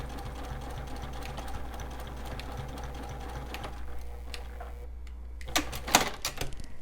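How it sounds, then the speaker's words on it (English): Stitching fabric for a star garland, a sewing machine hums along steadily, then stops, leaving a few close clicks and handling knocks. "we're going to sew up over our string and back stitch over that just to give it a little bit of stability"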